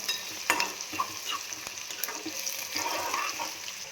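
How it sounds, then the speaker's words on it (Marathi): Chopped onions fry in a hot pan with a continuous close sizzle. A spatula stirs them, adding intermittent scrapes and clacks, and no one speaks. "कांदा थोडा ट्रान्सपरंट होईपर्यंत आपल्याला करून घ्यायचा फ्राय"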